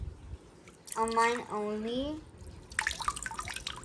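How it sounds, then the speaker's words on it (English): Water is poured over a toy, a splashing, trickling wash that starts after a short spoken phrase and carries on to the end. "now I am going to put water"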